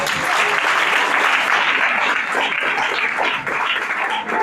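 A church congregation bursts into sustained applause, a dense wash of many hands clapping at once that holds steady for several seconds, with faint voices mixed in.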